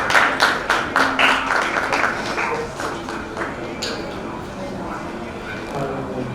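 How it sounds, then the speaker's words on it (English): An audience at a youth festival business idea competition applauds Group 2, with brisk clapping that fades after a few seconds while a voice talks over it. "Applause for Group 2."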